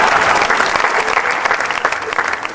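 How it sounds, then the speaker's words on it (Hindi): Audience applause at a Hindi kavi sammelan poetry recital, a dense, steady burst of clapping from a crowd that holds at full loudness for the whole short stretch. "यहाँ पर ताली बजानी पड़ती है।"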